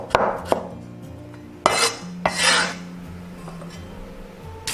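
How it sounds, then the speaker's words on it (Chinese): Knife on a cutting board slicing a small piece of fresh ginger: a few sharp, separate chops with short scraping rubs between them, close and fairly quiet, no talking. "一小块生姜切片"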